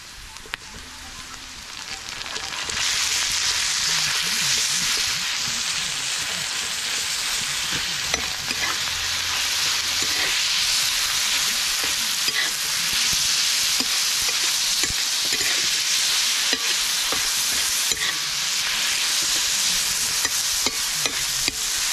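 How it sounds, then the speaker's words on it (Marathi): Chili goes into a pan with roasted onion and fries with a loud, continuous hiss that swells after the first couple of seconds, with occasional stirring clicks and pops throughout. "मी कांदा भाजलाय. आता मिरची टाकते."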